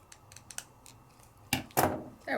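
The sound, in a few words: scissors trimming paper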